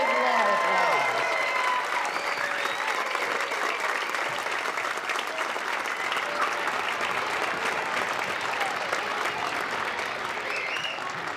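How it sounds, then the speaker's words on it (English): Audience applause for first and second grade performers at an elementary school concert, a steady, dense clapping that fills the room and holds at an even level throughout, with a few voices cheering faintly in the crowd. "Let's give them a big round of applause."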